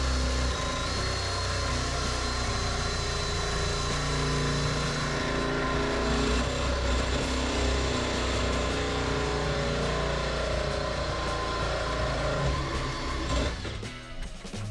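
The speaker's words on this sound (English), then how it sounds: "let's frickin' notch some tubing" Steel tubing for a go-kart frame is notched with a loud, continuous machine grind that runs unbroken for about thirteen seconds before cutting off near the end, with no talking over it.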